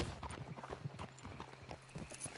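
Horses' hooves clip-clopping in a video game, a quick irregular run of close hoof knocks from several horses, moderately loud with faint low background.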